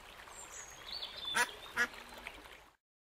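A couple of loud duck quacks from a children's cartoon ring out over a soft outdoor background, then the sound cuts off abruptly.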